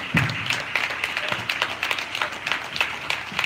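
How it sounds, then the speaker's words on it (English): Audience applause at a poetry event, a steady wash of many hands clapping through the whole stretch with a few sharper individual claps standing out. "y'all can keep clapping"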